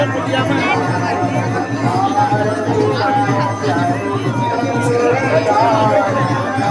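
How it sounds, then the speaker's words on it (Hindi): A large crowd at the Shikhar Mool Narayan temple, with people seated in rows for a meal: dense, steady chatter and babble from many nearby voices overlapping without pause. "बहुत भीड़ हुए है आज, बहुत भीड़।"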